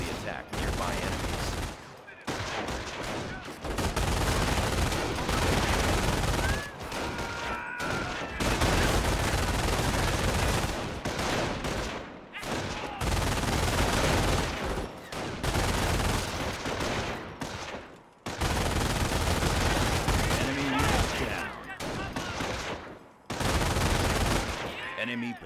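Squads trading fire with an enemy patrol in the World War II strategy game Company of Heroes: dense, continuous rifle and machine-gun fusillades rolling on for the whole stretch, broken only by brief lulls, with battlefield voices now and then.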